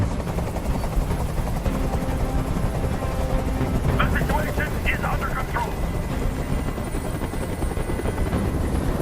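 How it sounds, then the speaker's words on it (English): A hovering helicopter's steady, loud rotor drone in the video game Detroit: Become Human fills the whole stretch, with a voice speaking briefly over it. "I can't stand that noise anymore. Tell that helicopter to get out of here."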